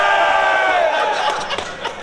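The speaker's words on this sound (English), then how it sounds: "Give us a cheer if you think Wishbone won." A crowd at a beetleweight robot-fighting championship cheers and shouts loudly and continuously for the robot Wishbone, the roar fading slightly toward the end.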